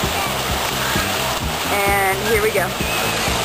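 Water splashes and rushes steadily at the end of a pool slide at the Pflugerville Water Park, loud and continuous, with rhythmic music and a person's voice talking over it.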